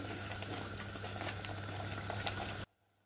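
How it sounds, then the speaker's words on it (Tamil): A Jaffna-style Sri Lankan beetroot curry simmers in a pot with sesame oil, bubbling steadily and closely at a soft level before cutting off abruptly. "பாருங்கள் கறி நல்லா கொதிச்சிட்ருக்கு"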